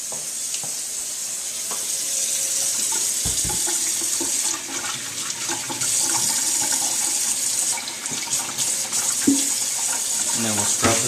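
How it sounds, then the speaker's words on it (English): Kitchen tap turned on and running steadily into a sink during cooking, a constant hiss of water lasting throughout with a pan of chicken sizzling nearby and occasional clatter of dishes. "turn the water on."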